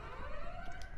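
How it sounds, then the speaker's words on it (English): A bank alarm blares during a stealth heist in a video game, a steady rising electronic wail sounding continuously at moderate loudness with no talk over it. "That's the alarm, guys. It's on now."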